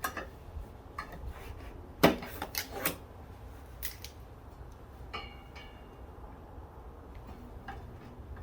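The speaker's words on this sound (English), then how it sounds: "Just cut all the zip tie all together at once." Zip ties binding a rooftop carrier basket for a 2023 Subaru Crosstrek being snipped, a few sharp cuts and clicks clustered near the middle over quiet background rustle.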